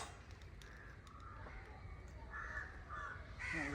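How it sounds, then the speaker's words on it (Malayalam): A crow caws repeatedly outdoors, several harsh calls spaced through the clip and growing nearer and louder toward the end over a low background hum. "കാക്ക"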